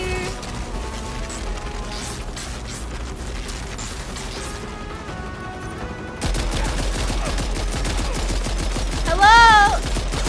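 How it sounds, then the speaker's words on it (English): A Gatling gun in the video game Death Stranding 2 fires rapid bursts in the distance, then a much louder, close, continuous rattle takes over, with a short warbling electronic tone near the end. "can I grab the Gatling gun?"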